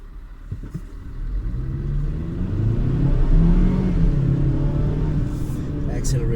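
A Volvo XC40 compact SUV accelerates from inside the cabin, its engine note rising and swelling in pitch over several seconds before easing slightly, a smooth mid-level rumble with a couple of faint knocks at the start.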